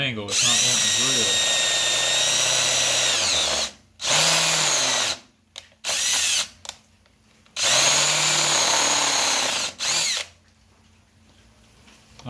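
Loud, close drilling at an angle into the metal of a 1950 Farmall Cub tractor's identification plate whines on and off, a long run followed by short bursts and another long stretch, the pitch wavering as it bites.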